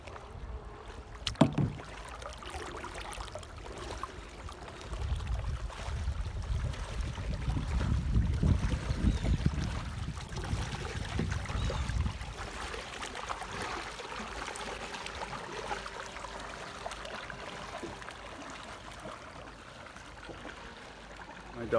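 A Lifetime Tahoma 100 sit-on-top kayak moves across the water with soft paddle splashes and a swelling wash of water that peaks midway, over faint wind, after a single sharp knock early on.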